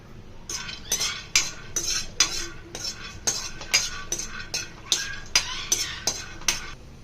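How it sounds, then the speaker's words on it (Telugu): Peanuts dry-roasting in a pan on the stove, stirred with a spatula: a steady run of about fourteen quick scraping, rattling strokes, close and fairly loud, with no talking. "స్టవ్పై ఒక ప్యాన్ తీసుకున్నాను పల్లీలని వేయించుకుంటున్నాను"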